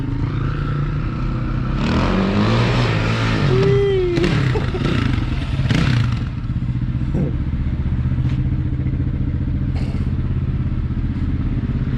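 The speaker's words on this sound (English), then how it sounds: "My mate's on the KTM." A loud KTM motorcycle engine runs close by, revving up sharply a few times with rising whines and clatter early on, then settling into a rough, rumbling idle.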